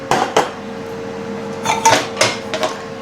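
Metal tiffin food containers clatter and clink as they are handled in a kitchen after washing, several sharp metallic knocks spread across a few seconds over a steady background hum.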